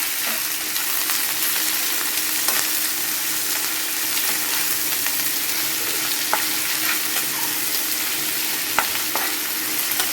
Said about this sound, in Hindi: पियाज को भल भाव टिके लाल लाल कर फ्राए करदबा।